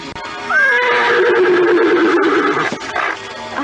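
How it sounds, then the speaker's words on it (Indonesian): A horse whinnies once, loud and close, in a long rising-then-falling neigh that trails off into a shorter snort-like tail. "tetap saja meringkik-ringkik dan sesekali mengangkat kakinya tinggi-tinggi"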